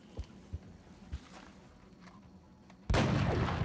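Sniper rifle fire in XCOM: a few faint soft thuds, then a sudden loud, sustained burst of noise that lasts to the end.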